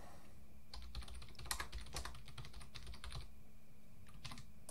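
Keys clatter on a computer keyboard in quick uneven bursts with short pauses between, close and clear, while text is typed into the Gmod game; no one speaks.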